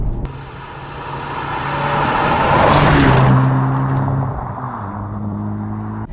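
A Volkswagen Golf GTI Clubsport engine, 290 horsepower, in sport mode revs and accelerates, its note rising and growling louder toward the middle before easing off into a steady drone.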